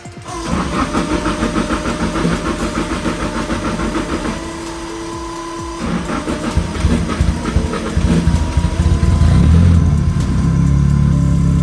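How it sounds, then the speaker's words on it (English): A Datsun engine idling roughly after an ethanol cold start, loud and close, with uneven pulsing combustion that stumbles, dips briefly and then steadies into a heavier, louder run toward the end. "The old ethanol cold start."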